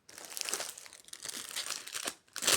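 Temu parcel packaging being opened, with close, continuous plastic crinkling and rustling in irregular bursts, a brief pause, then more crinkles.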